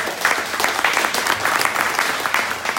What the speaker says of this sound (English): give a big round of applause for Wendy